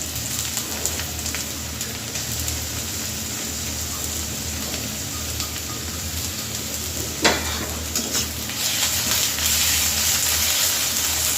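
Steady frying sizzle of ginger and garlic paste with onions, with occasional stirring scrapes, close by, growing a bit louder toward the end.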